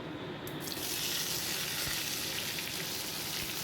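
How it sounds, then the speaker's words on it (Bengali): Sliced onions frying with cumin in a pan: a steady, dense sizzle holding at an even level from start to finish, close and without speech. "পেঁয়াজটা কিন্তু সুন্দর লাল লাল করে আমি ভেজে নেবো"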